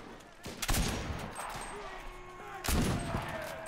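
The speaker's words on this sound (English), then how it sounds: "luckily he missed me with that first shot" Gunshots in a North Africa battle in Enlisted: two loud, sharp reports roughly two seconds apart, ringing out over a busy background of distant battle noise, with a voice speaking briefly.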